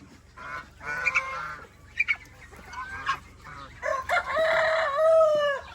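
Backyard chickens with a hen and eight newly brought-down chicks, giving clucks and squawky calls in short bursts that swell into a louder, sustained calling near the end, close by with no talking.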